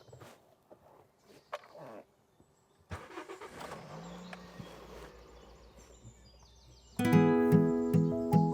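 A car engine revs up and then carries the car away as the clutch is released, with a louder, steady drive-off sound at the end after quieter handling noises.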